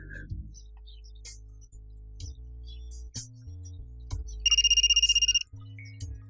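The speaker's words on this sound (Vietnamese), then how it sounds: "Tỷ Lâm, nghe điện thoại đi cưng." A pulsing electronic phone ringtone sounds for about a second partway through an indoor scene, with bright repeated tones standing clear over a low room hum and a few soft knocks, and no talk.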